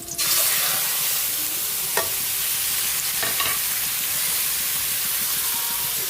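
Squid sizzling steadily in a hot pan for adobong pusit, a constant loud frying hiss with a couple of brief stirring clatters.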